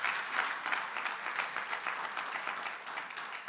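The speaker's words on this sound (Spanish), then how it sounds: "Así que dele un aplauso al Señor de gloria, pero fuerte." A church congregation applauds loudly and steadily for the whole stretch, a dense even wash of clapping hands with no pause.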